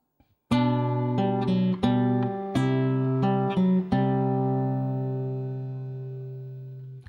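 A guitar plays a short passage from the Minuet in G, with a handful of plucked notes and chords over several beats. The final chord rings out and slowly fades, with no talk.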